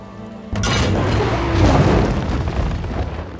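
A trebuchet in Elder Scrolls Online hurls a stone ball, which lands with a loud, deep boom that settles into a rumbling roar lasting several seconds, with no talk over it.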